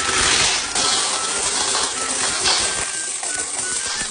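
Coins poured out of a coin-operated piso net computer rental machine, a loud continuous metallic jingling and clinking as a large pile of coins spills and rattles, up close with no talking.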